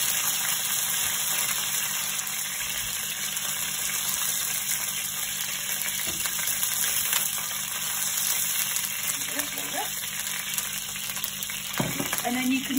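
Beef sizzles and fries steadily in a wok for Chinese chilli beef, a continuous loud hiss with occasional stirring scrapes and clinks near the end.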